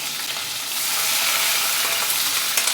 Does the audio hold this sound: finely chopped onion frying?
yes